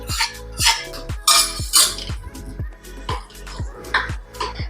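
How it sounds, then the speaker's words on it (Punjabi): Hot fried tempering poured into makhana raita in a kitchen, heard as a series of sharp metallic clinks and scrapes of a spoon against a bowl, repeated close up with no voices. "ਹੁਣ ਆਪਾਂ ਤੜਕੇ ਨੂੰ ਮਖਾਣਾ ਰਾਇਤਾ ਦੇ ਵਿੱਚ ਪਾ ਦੇਵਾਂਗੇ"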